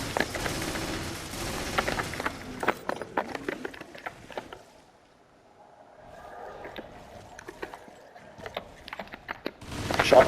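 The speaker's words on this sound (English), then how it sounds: "Shotgun." Shotgun blasts and heavy weapon fire in the game Resident Evil Revelations raid mode, several sharp booming shots spread through a busy, cluttered mix of game effects, with a quieter lull in the middle.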